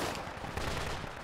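Rapid weapon fire from the Zeus pistol in Project Reality BF2, a dense, fairly quiet stream of shots with no clear gaps, heard from the player's position.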